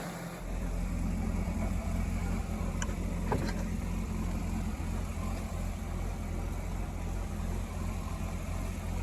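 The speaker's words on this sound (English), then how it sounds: "So I just wanted to get it outside and let it run for a while, let it have some engine time." A C6 Corvette ZR1 sits idling outdoors after a rebuild, its engine giving a steady low rumble throughout with a couple of brief faint clicks partway through and no one speaking.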